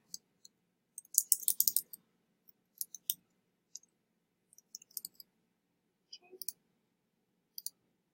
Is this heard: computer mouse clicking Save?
yes